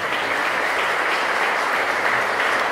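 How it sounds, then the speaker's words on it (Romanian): A gallery audience at a Iași Palace of Culture exhibition opening applauds a young violinist, a dense, loud, continuous wash of clapping with no talk. "aplauze pentru ei"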